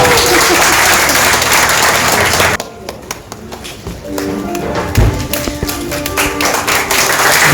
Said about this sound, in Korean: 여러분들 박수 한번 부탁드리겠습니다